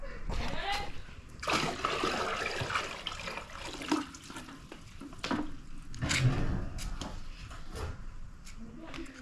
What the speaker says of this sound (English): Right, we go and water these other plants.